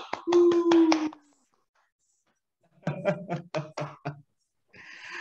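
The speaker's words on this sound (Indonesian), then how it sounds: "adik-adik semuanya tepuk tangan nih buat Kak Rika Triani" Children at a family festival storytelling session clap for a storyteller in two short bursts of quick, rhythmic claps separated by a silent gap, with a sustained tone under the first burst.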